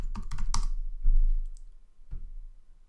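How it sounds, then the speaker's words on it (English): Fingers type on a computer keyboard at close range in quick bursts of sharp clicks and taps, with short pauses between the keystroke clusters. "let's type in Marvel"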